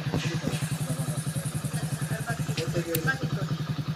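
A motorcycle engine chugs nearby in a rapid, even thumping rhythm under a little throttle, with faint voices in the background.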